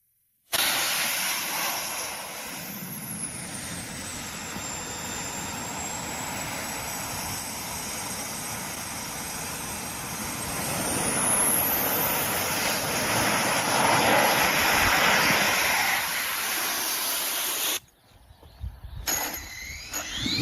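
Military jetpack jet engine in flight, a loud, steady, hissing roar with a high whine that swells toward the end before cutting off abruptly, followed by faint scattered sounds.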